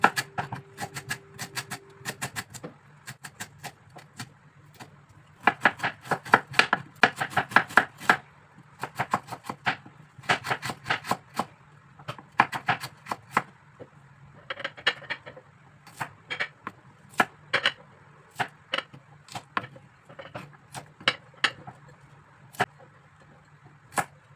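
A knife chops lemongrass and fresh chilies rapidly on a cutting board in bursts of quick, crisp strokes, with short pauses between runs.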